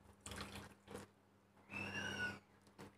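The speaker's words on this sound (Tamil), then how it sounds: "இந்த கிளாஸில் 4 கிளாஸ் தண்ணி ஊற்றுறேன்" Water poured from a glass into a pan while making semiya kesari, heard as a few short, faint splashing pours separated by quiet gaps, with one longer, louder pour near the end.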